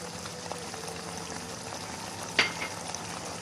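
Mutton mince frying in a pan with green masala and garam masala makes a steady close sizzle and bubbling, broken by a single sharp clink of a utensil.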